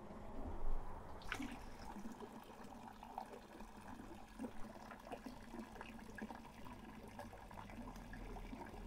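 Water runs steadily from a roadside tap in France, a continuous splashing trickle heard close and alone at moderate level.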